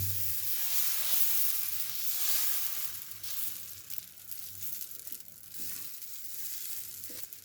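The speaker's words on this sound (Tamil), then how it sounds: "இப்போ தோசையை ஊற்றிக்கலாம்" Batter for an egg masala dosa poured onto a hot pan, a steady close sizzle and hiss that swells then eases, with faint scraping, and no one talking.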